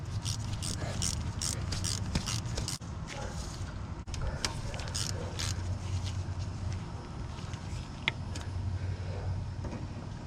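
A 10mm ratchet tightens bolts on a Honda S2000 engine during a timing chain tensioner replacement. Its quick clicks come in repeated bursts over a steady, busy workshop background.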